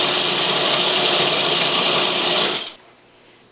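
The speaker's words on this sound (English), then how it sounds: "We're going to turn our food processor on and we're going to let it mix for just not long at all" Food processor blending a raw chocolate macadamia macaroon mixture, a loud, steady whirring motor that runs for about two and a half seconds before cutting off abruptly, leaving near silence.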